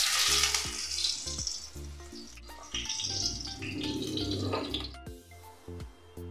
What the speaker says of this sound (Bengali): বড়াগুলো আগে ভেজে নিচ্ছি